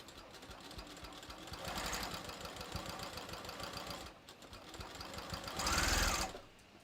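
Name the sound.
sewing machine stitching a hem on knit fabric bathrobe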